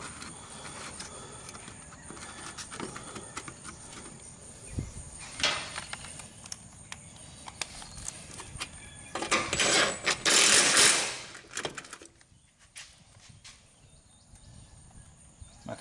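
Impact wrench rattling in bursts during a Briggs and Stratton Craftsman walk-behind mower repair, faint at first and then a loud close-up rattling burst that cuts out abruptly, with no talk.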